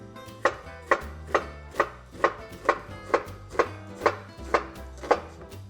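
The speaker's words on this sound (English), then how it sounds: "Roll it over, keep slicing. That's how to julienne an onion." A knife julienning an onion on a cutting board, slicing in a steady rhythm of about a dozen crisp, evenly spaced chops, close and clear with no talking.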